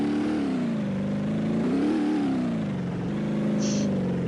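A car engine in the BeamNG.drive video game hums and revs steadily, its pitch rising and dipping as it accelerates, loud and close with no talk over it.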